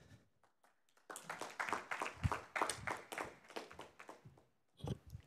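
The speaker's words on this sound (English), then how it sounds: "please give a big round of applause to project manager at Playing for the Planet, Louisa Neat." Audience applause for a speaker at the gamescom congress 2024 conference, a few scattered claps swelling into a burst of clapping that tapers off, fairly faint and distant.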